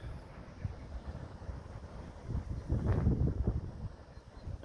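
Strong wind gusting by a river buffets the microphone in a steady low rumble, swelling louder in the second half with heavier gusts.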